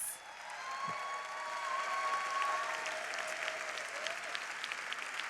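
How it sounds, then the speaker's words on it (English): A gala audience breaks into a steady, full round of applause that fills the room, with a brief sharp thump near the start and no speech over it. "They are all here in the room with us tonight, so we'll give them a round of applause."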